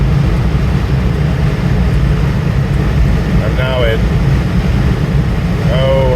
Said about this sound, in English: I wanted to demonstrate that the car can really move with its massive V8 engine.